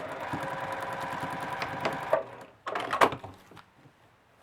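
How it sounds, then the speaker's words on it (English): A home sewing machine stitches a hole closed on a small in-the-hoop bunny dress, running in a steady rapid whir for about two seconds, then a pause and a shorter burst with a few clacks before trailing off. "And then I'm going to sew this hole closed."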